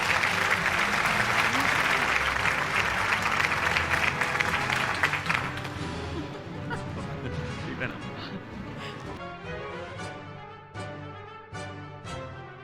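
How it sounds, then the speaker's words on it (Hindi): Full audience applause at an annual news award show, dense clapping for about five seconds that fades under music and a voice speaking over the hall. "round of applause ladies and gentleman for Ali Parvez Malik Saheb"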